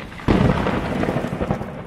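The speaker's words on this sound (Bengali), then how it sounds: "এত ঝড় বৃষ্টি রাতে কে বাইরে?" A cartoon sound effect of a night thunderstorm: a loud roll of thunder breaks in over a steady hiss of heavy rain and keeps rumbling, close and full, with no voices.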